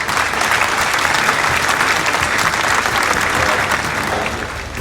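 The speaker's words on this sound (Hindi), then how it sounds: "एक बार सर के लिए ताली मार दीजिए जोर से प्लीज।" Audience at a Rashtriya Janata Dal felicitation ceremony in Motihari clapping for a speaker, dense sustained applause, loud and close, lasting the whole stretch and easing slightly at the end.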